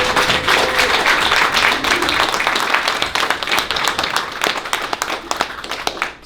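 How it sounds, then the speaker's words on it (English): An audience at an opening-remarks event for a film showcase applauds the people who worked on the films, with steady, dense clapping sustained throughout and a few sharper claps standing out near the end, no voices over it. "give them a round of applause"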